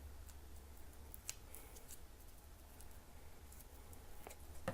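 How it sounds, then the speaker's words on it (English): Faint scissors snipping material while building a DIY electret lavalier microphone, a few sharp, quiet clicks scattered over a low hum, with no talking. "just cut off a little more of this material."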